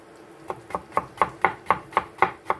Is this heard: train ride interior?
no